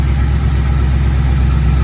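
An HEI-equipped Chevy engine idling steadily after the distributor is tightened down, a loud, close, low rumbling drone with a fast even pulse and no voices over it.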